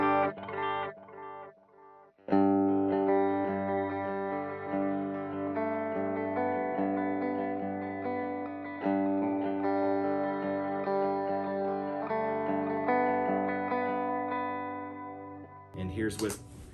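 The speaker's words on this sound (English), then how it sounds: "This is a dotted eighth tape, and this is what that sounds like." Guitar through a Strymon Timeline pedal on a dotted-eighth tape delay preset, sustained chords with repeating echoes smearing into a thick, chorused wash that rings steadily for most of the passage before a brief burst at the end.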